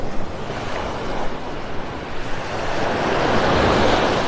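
Ocean waves wash steadily onto Vanderbilt Beach in Naples, Florida, a continuous broadband surf roar mixed with some wind buffeting on the microphone, swelling slightly louder toward the end, with no talking.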